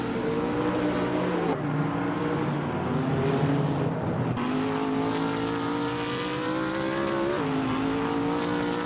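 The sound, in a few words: race cars driving, including a 2012 Subaru BRZ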